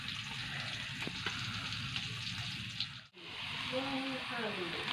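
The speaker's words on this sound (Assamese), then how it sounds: "কচ মাছ আজি বনাই চাওঁচোন। এয়া ফ্ৰাই কৰি আছোঁ" Koi fish (climbing perch) frying in a pan makes a constant, close, hissing sizzle that holds steady, with a brief dip near the end before the crackle resumes.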